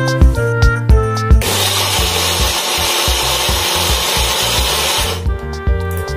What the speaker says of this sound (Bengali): এবার ভালো করে সমস্ত মিশ্রণটা ব্লেন্ড করে নেব